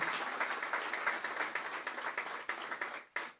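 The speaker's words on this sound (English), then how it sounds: "Give him a bigger round of applause." Audience clapping at a Law Enforcement Torch Run opening ceremony for the Special Olympics, a steady round of applause from a crowd, moderately faint and continuous, cutting off briefly near the end before resuming.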